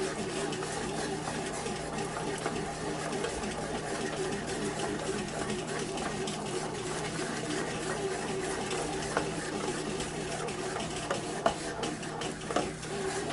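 Kitchen stand mixer kneading bread dough at home, a steady motor whir that runs continuously and evenly throughout, with faint clicks and a soft mechanical strain as the dough stiffens.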